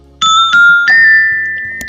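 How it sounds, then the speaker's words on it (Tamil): A wooden xylophone struck with small sticks, playing three bright, ringing notes in a slow sequence, with the last note sustaining and fading under a faint later tap. "இதுதான் ஜைலோஃபோன். இது ஒரு பெர்கஷன் இன்ஸ்ட்ருமெண்ட்."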